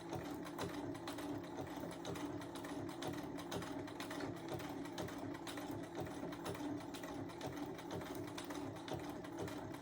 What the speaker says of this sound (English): My outside needle is right on the edge of that fabric. I could go much faster